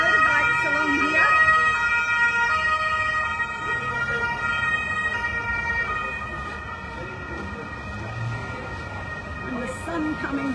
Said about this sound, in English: police and ambulance sirens everywhere.